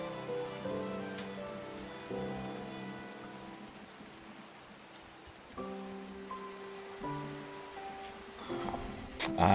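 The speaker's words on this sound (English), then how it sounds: "we got rid of that rain, which is awesome" Steady rain falls across a Minecraft vanilla survival world, a soft continuous patter with faint musical tones drifting underneath and a brief sharper noise at the very end.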